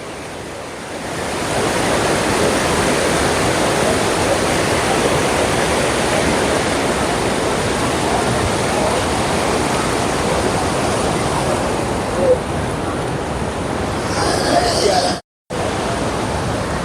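A steady, loud roar of rushing floodwater after two days of rain, flowing into Vellalapuram lake, fills the whole stretch, broadband and continuous, with a brief dropout near the end.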